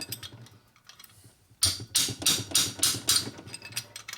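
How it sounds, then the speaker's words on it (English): A hammer striking the side of a wrench on a 1965 Harley-Davidson panhead 74ci FLH motor during a rebuild, about eight sharp metallic blows in quick succession after quieter shop sounds. "So I'm hitting right here on the side of my wrench"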